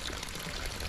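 Cold spring water pours steadily out of a bamboo pipe in a short, close, continuous splashing gush.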